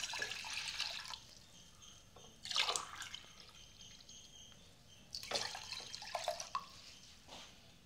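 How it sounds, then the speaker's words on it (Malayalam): Water pours from a glass into a pot in two short splashing bursts, the second following a few seconds after the first, over quiet room background. "ഞാൻ രണ്ട് ഗ്ലാസ് വെള്ളം ഒഴിച്ചു കൊടുക്കുകയാണ്"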